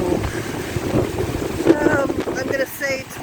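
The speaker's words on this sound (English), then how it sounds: "I'm gonna say 20-30 mile an hour wind gust right there" Strong wind gusts in the aftermath of Hurricane Ian buffet the microphone with a steady, loud roar and rumble for about three seconds, with a faint voice briefly audible partway through.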